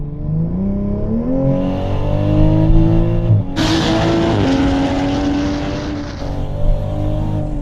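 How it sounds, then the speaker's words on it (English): A modified, concept-built Toyota Supra GR MkV A90 accelerates hard, its engine note climbing loudly and steadily with a sharp rise in intensity midway as it pulls, close and with no talking. "the car doesn't lose traction or get squirrely. It does kind of just suck down and go"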